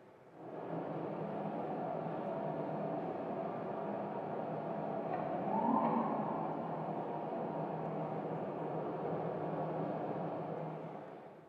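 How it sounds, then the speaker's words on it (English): Air conditioning units hum in an empty Times Square, New York, during the pandemic lockdown. A faint, steady broadband drone runs throughout, rising slightly in the middle. No voices or traffic stand out. "In the lockdown, all you can hear is air conditioning."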